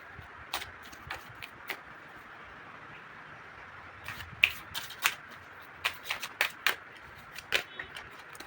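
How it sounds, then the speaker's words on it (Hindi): A Romance Angels oracle card deck is shuffled close by, with quiet soft riffles at first and then a run of sharper, quick card snaps and flutters. "हम कुछ कार्ड्स रोमांस एंजल से भी लेंगे।"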